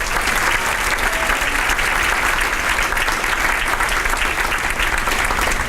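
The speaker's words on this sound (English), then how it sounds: "Let's give all of our 2017 APS ambassadors a big round of applause." A banquet crowd at a teacher-of-the-year event applauds a group of ambassadors, a loud, dense and sustained roar of clapping that holds steady throughout without pause.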